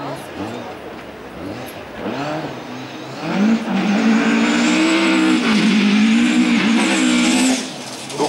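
A race car tears up a hill climb course at Vikersund in the 2014 Norwegian championship, its engine rising and revving hard through the gears with some tire noise, loud and close, while a commentator talks over it.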